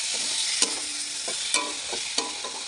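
Egg curry stirred and frying in a pan, a steady bright sizzle broken by a few sharp scrapes and clacks of the spoon against the pan.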